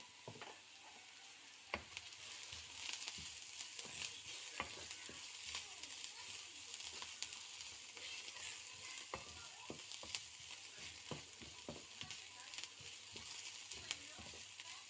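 Onions frying with black pepper in a pan for onion rice, a soft continuous sizzle broken by frequent light clicks and scrapes of a spoon, no voices.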